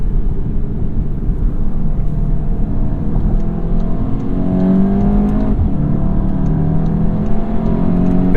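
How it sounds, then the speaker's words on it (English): A 2022 Volkswagen GTI engine pulls steadily under acceleration while driving, a loud continuous cabin drone with rising engine tones and no one speaking. "engine noise isn't bad."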